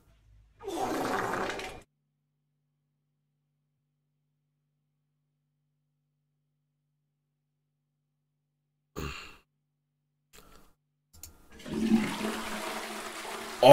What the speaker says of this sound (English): we just flushed our toilet